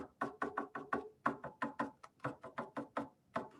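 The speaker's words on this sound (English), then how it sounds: "My canvas is knocking around." Canvas on an easel knocking repeatedly while being painted, a rapid series of about sixteen close, sharp wooden knocks in an uneven rhythm with no talking.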